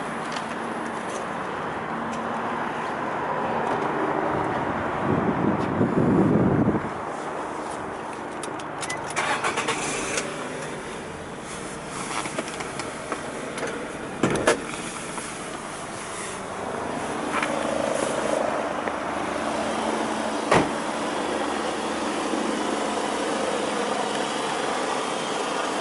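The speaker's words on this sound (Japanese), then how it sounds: "エンジンをかけてみます。" A 2006 Nissan X-Trail 2.0 4WD is cranked and started outdoors, a short burst of starter and catch near the start, then a quiet steady idle with birds calling faintly in the background.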